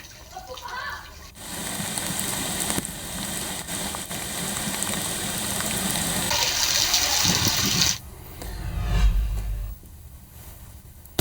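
Floodwater pouring over a submerged culvert on a flooded road, a steady loud rushing roar that swells and changes character midway, with a heavy low rumble near the end.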